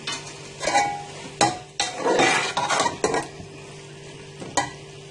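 Sarson ka saag being stirred and fried in its own oil in a pan: intermittent scraping strokes of a spoon against metal over a soft sizzle, with a few sharper clinks.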